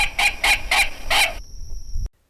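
A recorded least bittern call played through a loudspeaker: four evenly spaced, harsh clucking pulses in quick rhythm, loud and close, followed by a short stretch of quiet hum before an abrupt stop.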